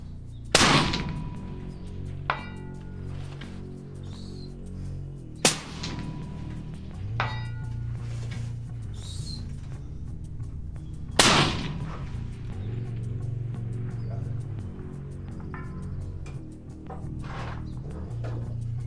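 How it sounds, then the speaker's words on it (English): A Mossberg Patriot Predator rifle in 7mm PRC fires three loud, sharp shots spaced several seconds apart outdoors, each with a booming report and a trailing echo, while lighter clanks and handling noises fill the gaps. "I just continued to shoot this thing out at different distances"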